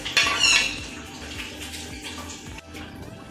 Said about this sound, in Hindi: थोड़ा सा पानी डाल के अच्छे से धुल के।